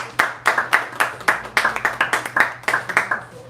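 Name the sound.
comedy club audience clapping for the comic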